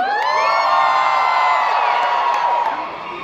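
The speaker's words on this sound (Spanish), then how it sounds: "Ahora un grito de los mayores de 25 años." A stand-up comedy audience in Mexico yells on cue, a dense burst of crowd shouting and whooping that fills the room, then fades slightly at the end.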